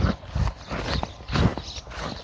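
A mare's hooves clip-clop on the ground as she is led in, several close, uneven steps with a soft, dull thud, heard alone without talk.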